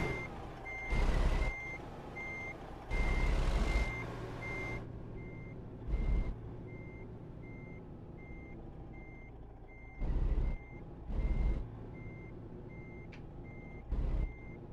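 A truck towing a trailer backs up in American Truck Simulator, its reversing alarm sounding as a steady row of evenly spaced beeps over a low engine rumble, broken by several sudden loud bursts of air hiss, with no talking.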